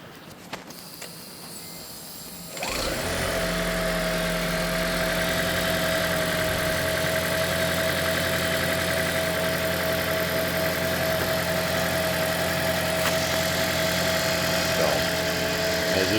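A replacement engine in a 3rd-generation Toyota Prius starts up after a quiet moment and settles into a steady, even idle with a smooth mechanical hum running close by, no talking.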